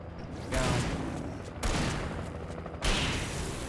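Gunfire in the game Alan Wake Remastered, three loud sustained bursts of shots close up, each cutting in sharply and rumbling on for about a second, with a brief gap between them.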